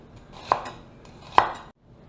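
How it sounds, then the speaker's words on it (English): Two crisp knife strokes through onion on a cutting board, about a second apart, close and fairly quiet, with faint kitchen room tone between and no talking. "I'm just going to coarsely chop the onions"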